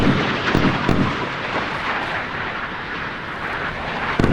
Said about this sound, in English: He's firing all the harpoons off now